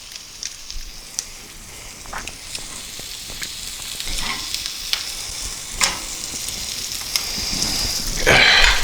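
Eggs frying in a pan just after being flipped, a close, steady sizzle broken by sharp crackling pops that swell louder near the end.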